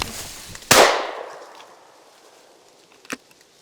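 A shotgun fires once while hunting woodcock in upland cover: a single loud, sharp blast with a long fading tail. A much fainter, brief crack follows a few seconds later.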